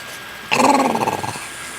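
A dog lets out a short, low rumbling growl, close by, lasting under a second in an otherwise quiet room.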